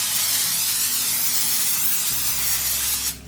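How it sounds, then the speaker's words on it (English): Cooking spray hisses in a steady close burst over tortillas for about three seconds, then cuts off abruptly. "I'm gonna take my cooking spray. I'm gonna spray each side of these with it."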